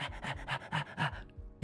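A dog pants rapidly and close by, a steady series of short breathy huffs that stops abruptly near the end.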